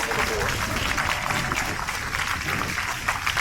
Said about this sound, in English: One last round of applause for all of the teams for RobotX